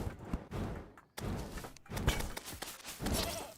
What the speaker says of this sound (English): I think I'm gonna stick with the goat, but that is a pretty funny sound.